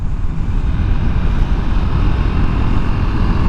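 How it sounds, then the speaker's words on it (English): A KTM 390 Adventure on Kenda Trakmaster DTR tires powers out of a wet corner in the rain, its engine drone loud and steady beneath heavy wind rush, with no break throughout. "I'm very confident to give it throttle coming out of corners."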